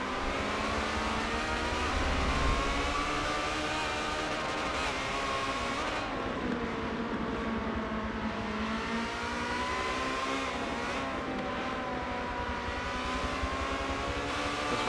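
Ferrari 360 Challenge Stradale race cars roar around the Hockenheim circuit, with continuous loud engine noise, rising and falling revs, and several cars passing close together.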